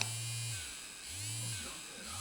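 An electric toothbrush buzzes steadily up close, a bright mechanical whine that pulses in slow waves about twice a second, with no voices over it.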